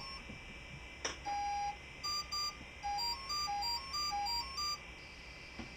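An electronic speed controller plays its startup tune on battery connection: a clear series of short, pure electronic beeps in a stepping melodic pattern, heard alone against a quiet background.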